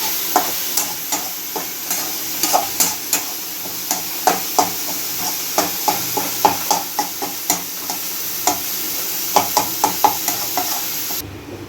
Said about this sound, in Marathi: हा मसाला चांगला परतून घ्यायचा आहे